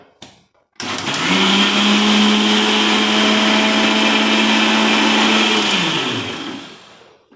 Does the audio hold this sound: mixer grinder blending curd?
yes